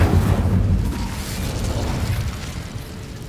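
A fiery Incendio spell cast in Hogwarts Legacy, a loud whooshing burst of flame that erupts at once and then rumbles and fades over a few seconds, with no talk.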